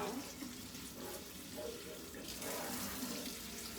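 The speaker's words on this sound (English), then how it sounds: "rinse a little bit of water so the coffee doesn't stay, the coffee grounds doesn't stay like right on the top" Water is poured over coffee grounds into an orchid pot, a steady splashing trickle heard up close for a few seconds.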